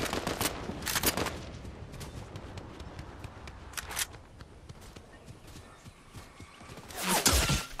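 A sharp sniper rifle crack in Fortnite Chapter 5, sounding amid scattered quieter gunshots and footsteps, with a loud close shot near the end of the stretch.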